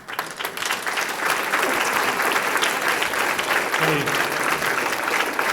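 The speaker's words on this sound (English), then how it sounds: "I can't believe you've been standing and applauding for me" An audience at the Roone Arledge Award ceremony for Jayne Kennedy stands and applauds, producing a dense, steady wash of clapping that swells within the first half-second and holds loud and even throughout.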